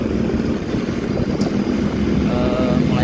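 A Honda BeAT scooter engine, still cold and prone to bogging on the throttle, runs with a steady close rumbling drone that rises slightly in pitch near the end.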